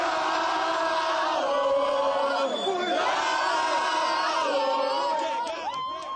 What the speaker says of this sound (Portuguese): Essa festa da torcida é algo extraordinário